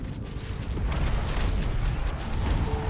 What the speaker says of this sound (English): And got to see pretty explosions.